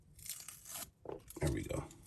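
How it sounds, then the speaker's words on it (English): Tape is torn off the packaging of a Masterverse Revelation Tri-Klops action figure in a few quick, close ripping pulls with light crinkling, fairly quiet. "Let me get this tape off of here"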